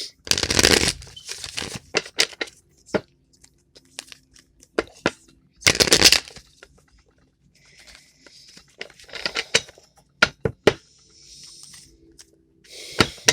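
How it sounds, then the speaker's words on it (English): Tarot cards being shuffled in several bursts of riffling and slapping, with quiet pauses between, close up and crisp. "I always pre-shuffle my cards"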